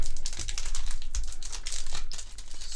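A trading card pack wrapper for Upper Deck AEW cards being torn open by hand, with steady close crinkling and crackling of foil plastic and a few sharper rips, no talk.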